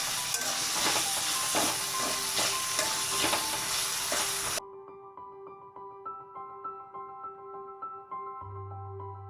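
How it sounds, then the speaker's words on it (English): Onions and tomatoes frying in a few tablespoons of leftover oil for a chicken curry, a dense crackling sizzle with stirring scrapes that cuts off midway to a quieter steady simmering hiss with faint clinks. "using a few tablespoons of the leftover oil which we used for frying, fry the onions and the tomatoes."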